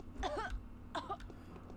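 A person coughs twice, short throat-clearing bursts spaced about a second apart, close and fairly quiet against a low background hum.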